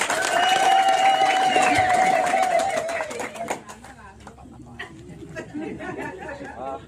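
Audience applause at a praise-song gospel gathering, a burst of clapping and crowd noise that rises after a sustained voice and then fades to scattered claps and murmuring.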